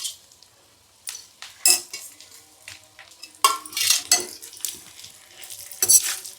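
Chopped cashews and almonds fry in a hot pan with a faint sizzle. Sharp spoon-on-pan scrapes and clinks come in irregular bursts, louder toward the middle and end, and no voices are heard.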